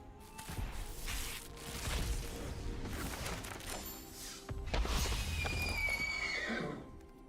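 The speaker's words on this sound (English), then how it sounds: "Big old horse." A horse in a video game whinnies loudly and stretches out its neigh, with hoofbeats and game-style sound effects layered underneath, ending in a falling whinny.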